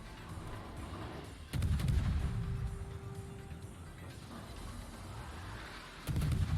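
Destroyer guns firing in the World of Warships video game during a Tier 9 ranked battle aboard the Russian destroyer Neustrashimy, with heavy low booms at the start and again near the end over a steady rumbling battle bed.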